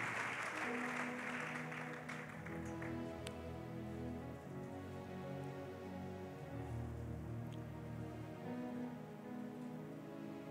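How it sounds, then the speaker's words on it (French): A church congregation applauds and cheers loudly for the Lord, a dense, steady roar of clapping that runs the whole time over sustained tonal sounds underneath. "On acclame très fort pour le Seigneur."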